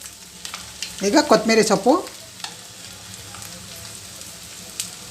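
Garlic egg roast fries in a pan with a steady, soft sizzle and hiss running throughout, while a voice speaks briefly near the start.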